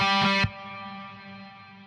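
A distorted metal rhythm guitar with a little reverb at a 28% mix strikes a single chord that cuts off sharply, leaving a fairly long, fading reverb tail.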